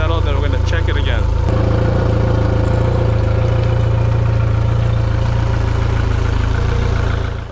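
A Mercury 115HP EFI four-stroke outboard motor idles steadily, a loud continuous low hum with a constant drone. There is brief talk at the start, and the engine keeps running alone after that.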